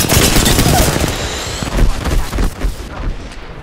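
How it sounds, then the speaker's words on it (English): Rapid, loud bursts of gunfire from an Apex Legends ranked match pound almost continuously, with booming impacts layered in before the shooting thins out and tapers off near the end. "Opening fire in progress."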